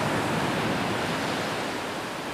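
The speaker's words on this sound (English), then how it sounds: "as does the sound of waves" Ocean waves on a beach give a continuous broad wash of surf, steady and fairly loud, without distinct individual breakers or voices.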